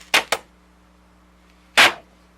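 Vintage paper ephemera torn from photos: two quick sharp rips close together, a pause, then one longer tearing pull, close and loud with no talking.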